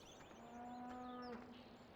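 Video game farm sound effect of cattle in a cow shed, a drawn-out low moo lasting just over a second, with a fainter overlapping moo, set against a quiet ambient background.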